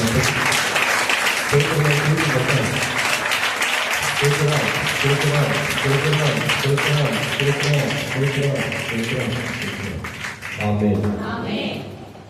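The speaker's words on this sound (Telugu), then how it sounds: "దాని అందరూ చేసిన వాగ్దానం నిమిత్తమై చప్పట్లు కొడుతూ స్తోత్రం." A congregation claps together during a Sunday Holy Communion service, steady applause running for several seconds under voices singing and speaking, then thinning near the end.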